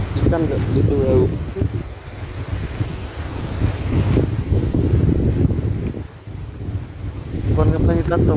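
Gusty wind blows across an open fish pond, buffeting the microphone with a loud, continuous roar. Brief voices come through at the start and end.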